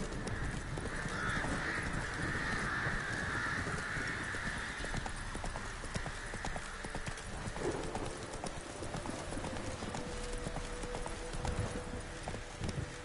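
Steady clip-clop of horse hooves while riding in The Witcher 3: Wild Hunt, continuous rhythmic trotting throughout, with crow caws and ambient game sounds layered over it.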